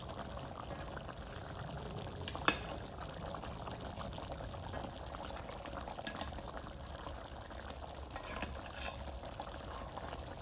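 Chicken thighs cook in a pan with a soft, steady sizzle, faint and constant, broken by one sharp clink partway through.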